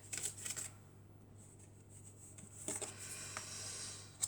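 Tarot cards are handled and shuffled during a card reading, with soft papery riffles in short bursts, quiet and close, with a pause in the middle.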